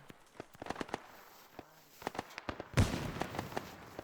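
Grenades exploding in a Vietnam War video game: a string of scattered cracks and pops, then a louder booming burst near the end, with crackling aftershocks.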